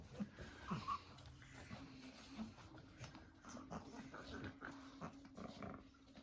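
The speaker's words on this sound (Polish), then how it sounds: "Tak wyglądają nasze pieseczki." Shih Tzu puppies whimper, growl softly and sniff close by, producing faint, scattered little yips and snuffles with no talking.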